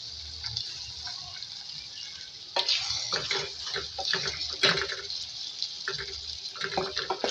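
A little water added to a pot of bhuna chicken gizzards cooking with red chilli and salt: a sudden sizzling splash followed by stirring scrapes and bubbling, close by.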